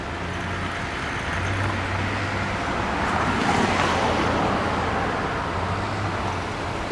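A car approaching on a road from behind and passing, its tyre and engine noise swelling to a peak mid-way then easing off, over steady traffic background with no talk.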